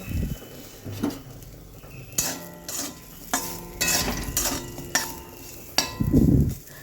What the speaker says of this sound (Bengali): প্রথমে আমি করলাগুলো একটু মোটা মোটা করে কেটেছি একটু তেলের মধ্যে লবণ দিয়ে ভেজে নেব